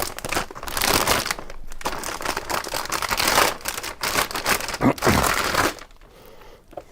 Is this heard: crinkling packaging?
yes